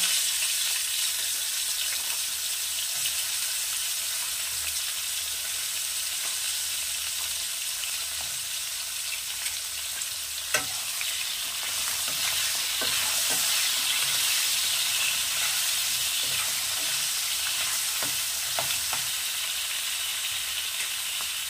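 Chopped drumsticks stirred and frying in a pan for a fish curry with bottle gourd, giving a steady close sizzle with occasional scrapes of the spatula throughout.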